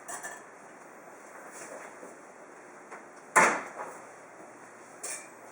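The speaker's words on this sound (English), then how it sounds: "My bread's ready now, so I'm going to get it out of the oven" A tin of freshly baked no-knead whole wheat bread comes out of a kitchen oven, with one sharp metallic clank, a later lighter knock and faint handling sounds in a quiet room.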